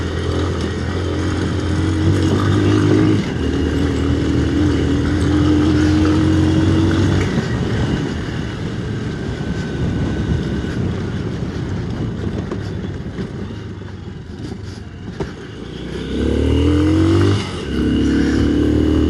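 A Honda XR125 trail motorcycle climbs a steep, bumpy track, its engine droning and rising in pitch through revs and gear changes, loud and close with rough rumbling throughout.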